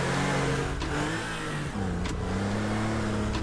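Car engine in the Teardown video game revving steadily as the vehicle drives, a continuous mid-pitched drone rising and falling in pitch, loud and close with no talk over it.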